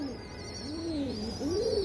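A pigeon from a mixed flock of racers, colour birds and high-flyers coos close to the microphone, two rising-and-falling throaty calls against a steady high background hiss.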